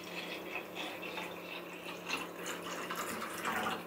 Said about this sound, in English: now I just fill it up to 1 liter